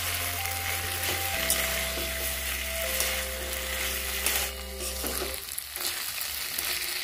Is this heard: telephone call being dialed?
no